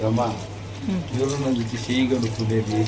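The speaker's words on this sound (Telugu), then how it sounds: "ఇప్పుడు హ్యాండ్ వాష్ చేసుకునే దగ్గరికి వెళ్తున్నాం అనమాట." Tap water runs into a sink at an outdoor forest dining spot as hands are washed, a steady splashing wash that plays under people talking throughout.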